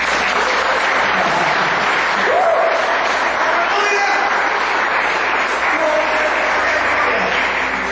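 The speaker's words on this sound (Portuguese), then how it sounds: "Você pode aplaudir esse Deus?" Congregation applauding during a church service, sustained loud clapping from many people with cheers and voices mixed in, continuing for about eight seconds.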